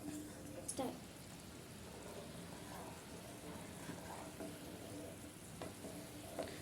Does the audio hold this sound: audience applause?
no